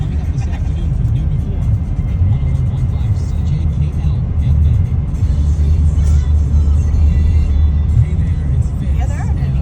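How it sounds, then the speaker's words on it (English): Trucks roll past on a road one after another in a continuous low rumble with swelling engine drone, while people talk over the traffic. "Count the trucks."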